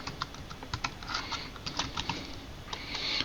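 Keys clack on a computer keyboard as HTML code is entered, in quick irregular bursts of taps at close range with short pauses between, and no voice.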